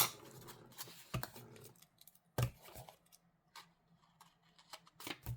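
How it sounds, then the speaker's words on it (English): Paper is snipped with scissors while a work planner is decorated, a few sharp close crisp cuts scattered among softer rustles and small handling clicks in a quiet room. "Oh, my scissors."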